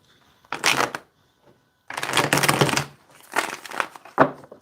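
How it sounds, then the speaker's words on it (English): A deck of tarot cards is shuffled up close in three quick, crisp bursts separated by short silences. No one speaks. "We're going to do 4 shuffles."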